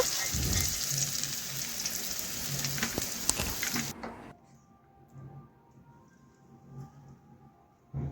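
Potato pieces fry in hot oil with a dense crackling sizzle, loud at first, then dropping to faint scattered pops and ticks once they are lifted out.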